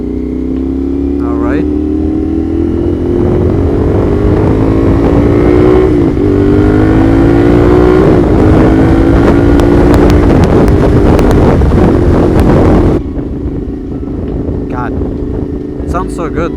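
A CFMOTO 450SR 2023 motorcycle engine revs loud and close while riding, with rising and falling pitch through gear changes under steady wind rush, dropping to a lower idle-like drone near the end.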